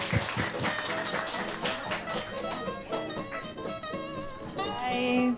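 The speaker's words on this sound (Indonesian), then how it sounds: "Mari tepuk tangannya." Audience applause at a talk event as a speaker is welcomed to the stage, a dense, steady patter of clapping lasting the whole stretch with some tonal background sound mixed in toward the end.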